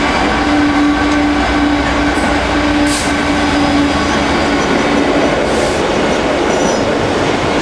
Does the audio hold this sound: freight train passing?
yes